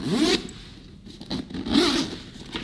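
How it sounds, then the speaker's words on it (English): Zipper pulled open along a full compartment of a Red Oxx Sky Train travel bag, two quick close rasping runs separated by a short pause, with faint handling noise. "Opening this up, full zippered compartment."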